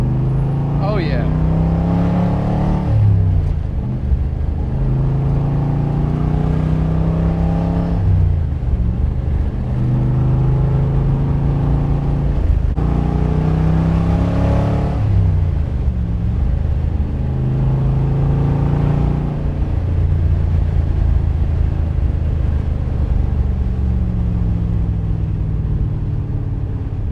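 A 1967 Chevrolet Corvette Stingray 427 convertible engine revving repeatedly, loud deep V8 bursts that swell and fall back to a rumbling idle in a steady cycle, heard up close.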